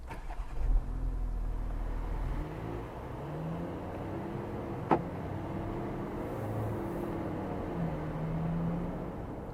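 A 2015 Volkswagen Touareg engine starting with a brief cranking burst, then settling into a quiet, smooth idle heard from inside the cabin, with one sharp click partway through.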